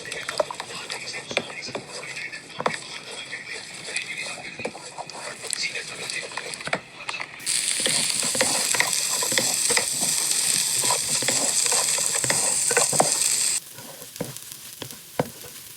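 Beaten egg being stirred in a hot pan for chicken fried rice, an ongoing sizzle with frequent scraping strokes that swells into a loud, bright hiss midway, then settles back to quieter frying.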